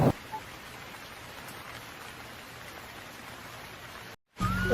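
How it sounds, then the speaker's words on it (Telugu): Steady rain hisses evenly, moderately loud, with a brief sharp cutout near the end before the downpour resumes. "ఏంటి పెద్ద పెద్ద మెరుపులు ఉరుములు అయినా ఇది వర్షాకాలం కాదే ఎందుకింత వర్షం"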